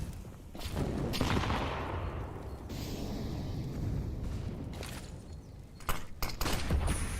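USP pistol shots and surrounding gunfire in a Counter-Strike: GO match on the Inferno map, a dense rattling mix of sharp cracks over continuous in-game ambience.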